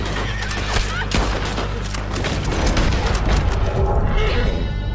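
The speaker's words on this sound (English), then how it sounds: "Gua pakai sniper aja deh." Sniper rifle shots ring out in the video game Red Dead Online during a legendary bounty hunt, sharp cracks rising out of a loud, continuous wash of game noise.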